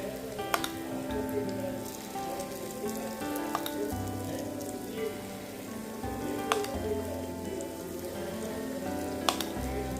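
Jackfruit unniappam batter fries in the wells of an unniappam pan with hot coconut oil, a steady close sizzle with occasional sharp pops and faint low clatter, no voices.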